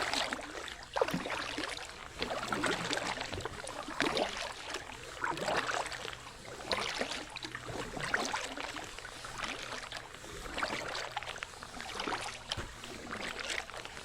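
Paddle strokes splash and drip rhythmically beside a Gumotex Swing inflatable kayak, soft repeated swishes of water every second or so, quiet and close with no talk.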